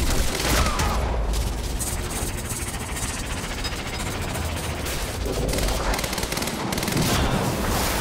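Sustained, dense automatic gunfire from the video game Quantum Break roars without pause, loud and close, with explosive bursts layered over the rapid shooting.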